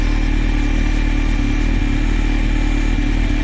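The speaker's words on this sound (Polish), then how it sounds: "Obroty bardzo ładnie stoją, nie faluje silnik." A Honda CB 1300 Super Four motorcycle engine idles steadily up close, its low rumble holding an even, unwavering pitch throughout.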